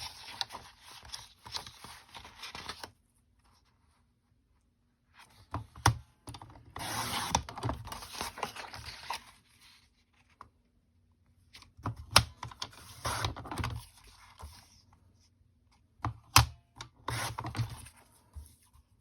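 Paper being cut for a 3 by 4 inch card mat on a 12 inch sheet, heard as bursts of scraping, rasping strokes separated by short pauses, close and fairly quiet with no talk.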